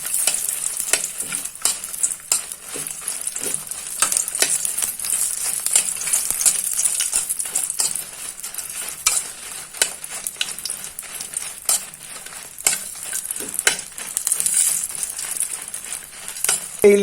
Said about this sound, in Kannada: ಅದಕ್ಕೆ ಮೆಣಸನ್ನು ಆ್ಯಡ್ ಮಾಡಿ ಮೆಣಸನ್ನು ಸ್ವಲ್ಪ ಫ್ರೈ ಮಾಡುವ